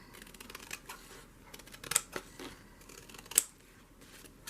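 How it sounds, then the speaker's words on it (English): Scissors trimming paper for a handmade glue-book craft page, giving a few faint, sparse snips and rustles in a quiet room, with two sharper cuts standing out near the middle and later. "So we're going to do a little bit more trimming."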